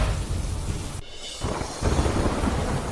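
Steady rain falls over Navsari, a dense hiss that drops out for a moment and then comes back with a low rumble of thunder, alone with no voices.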